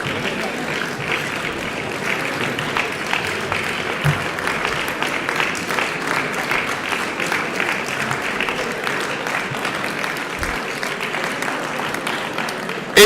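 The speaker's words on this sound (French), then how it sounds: "Vous pouvez l'applaudir." A hall audience claps steadily and evenly throughout for a regional sailing champion from a local sailing club at a town awards ceremony, a dense, continuous patter with faint voices underneath.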